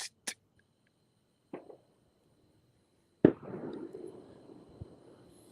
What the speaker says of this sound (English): I heard the fireworks in the background.